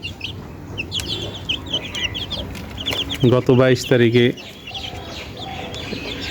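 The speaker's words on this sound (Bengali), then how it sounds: "আবার কিছু লেয়ার মুরগির বাচ্চা কিনলাম" Day-old layer chicken chicks peep with high, rapid chirps throughout, while a voice speaks briefly in the middle.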